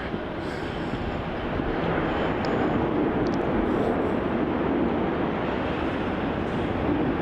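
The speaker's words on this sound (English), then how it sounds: "And landing there, we have the Virgin Australia flight VA826 from Sydney." A Virgin Australia airliner landing at Melbourne Airport gives off a broad, steady roar of jet noise that stays loud and constant throughout, with no talking.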